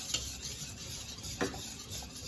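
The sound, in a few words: whisking beef broth into gravy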